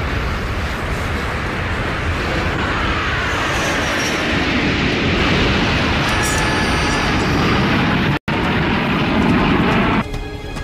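A large plane roars low over the ocean in a film scene, a loud, continuous engine rumble and rush sustained throughout with a brief cut near the end before the noise resumes.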